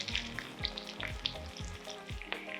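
Pumpkin ravioli frying in a pan with a little water, giving a steady, soft sizzle close by with faint crackles and no talking.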